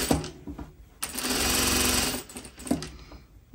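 An electric sewing machine stitches a trouser seam in short bursts, one long steady whirring run in the middle framed by brief starts and stops and light clicks, close and fairly loud with no talk.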